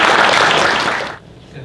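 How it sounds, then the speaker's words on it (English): Audience applause for a speaker at an equity crowdfunding talk, a dense burst of clapping from a room full of people that rings loudly for about a second before cutting off abruptly. "Give him a round of applause"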